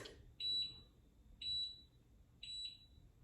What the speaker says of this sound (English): It'll count down 6 beeps.